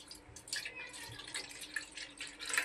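Water poured into a bowl in a home kitchen, in the middle of cooking boiled bael fruit into a sweet preserve; a soft, steady trickle with light splashy drips, close and fairly quiet, with no talking.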